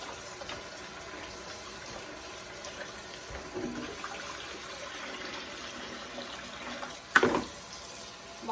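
Tap water runs steadily in a kitchen sink while strawberries and limes are washed, a soft continuous rush with a brief louder splash and clatter near the end.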